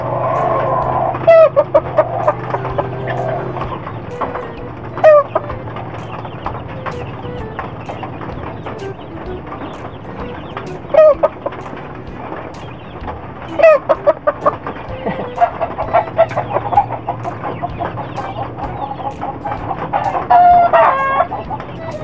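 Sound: chickens clucking and crowing

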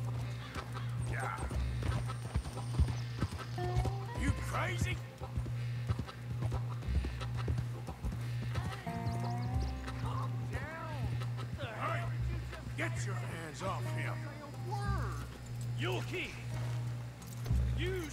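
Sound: horse hooves and whinny in video game Red Dead Redemption 2

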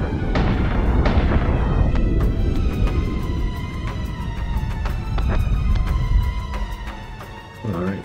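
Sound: warship guns firing and explosions in video game Battlestar Galactica Deadlock

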